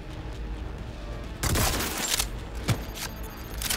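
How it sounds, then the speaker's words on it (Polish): A shotgun blasts in Cyberpunk 2077, a sudden loud broadband burst followed by a second sharp report about a second later, over a continuous bed of game noise and sound effects. "Ładnie to strzela ten shotgun, kurde."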